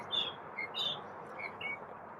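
A small bird outdoors gives several short, high chirps in quick succession over a soft, steady background hiss, faint and fairly distant.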